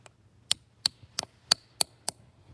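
Six crisp, close hammer strikes come at a steady rhythm as a spout is driven into a tree trunk at a winery, each tap bright and short with quiet between.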